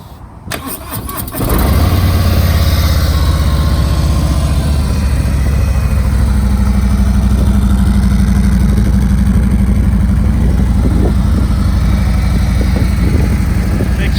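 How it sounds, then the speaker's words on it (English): A starter whirs briefly before a 2020 Harley-Davidson Road Glide Limited motorcycle engine fires up, then holds a loud, steady idle close by for several seconds. "So I'm gonna go ahead and start this bike so you can hear it."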